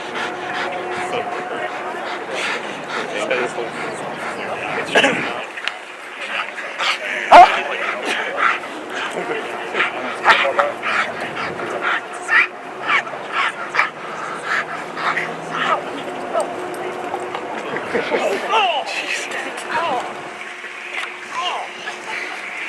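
A Colorado Springs police K-9 barks and yips repeatedly during a bite-training demonstration, sharp intermittent bursts scattered throughout, with people talking in the background and other handling noise between barks.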